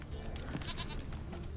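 A goat bleats in The Witcher 3 with a short, wavering, nasal cry near the middle of a brief stretch of game ambience and soft background noise.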